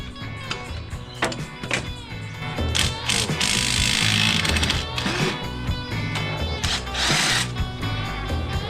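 Engine bolts are cracked loose with a ratchet during an engine swap on a P6 LTD rally car limo, with rapid ratcheting clicks and louder buzzing, drill-like bursts close by.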